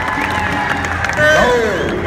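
Crowd at a kabaddi match in Dubai cheering and clapping, a steady din that swells louder halfway through, with shouting voices mixed in.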